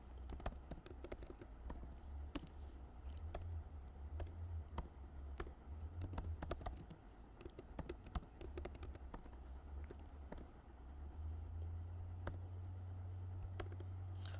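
Steady typing on a computer keyboard while writing Flutter code, quick close key clicks in an uneven continuous run over a low electrical hum, with no talking.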